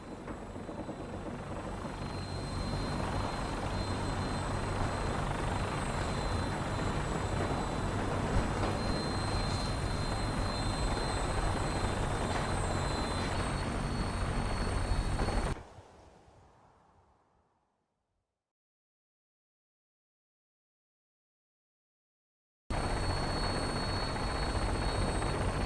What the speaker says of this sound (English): Now, we have a vertibird on standby, fully armed and ready to depart.